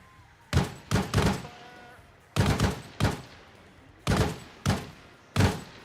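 Heavy weapon fire in the military game Arma Reforger: seven loud, sharp blasts in uneven pairs and singles, each with a short decaying tail, close by, with brief voices between them.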